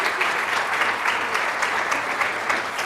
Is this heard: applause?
yes